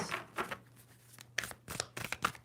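A deck of tarot cards being shuffled, with soft papery riffles and taps in short bursts, close and quiet, and no talking.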